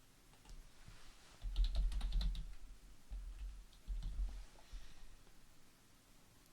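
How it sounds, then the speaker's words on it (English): Fingers type on a computer keyboard in quick clusters of soft key clicks over a faint low background hum. "I'm typing test to see if it works."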